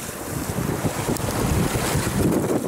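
Strong storm wind buffets the microphone beside water while fishing near a flooded village shore, a loud, rough, continuous roar with gusting surges and low rumble.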